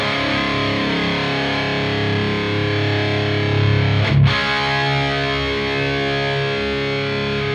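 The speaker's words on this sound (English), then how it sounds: "And the tri-chorus I haven't really used with distortion." An electric guitar run through distortion and a tri-chorus effect, a sustained buzzing, thickly layered tone holding steady with a brief swell and sharp accent midway, played alone.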